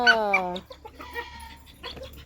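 Chickens cluck and call close by at a farmyard coop, opening with a loud drawn-out call followed by shorter, softer clucks and scattered rustling.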